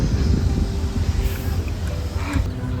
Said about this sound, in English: You can now hear the wind because we are getting closer to Joe's most excited part of the trail, near the shore.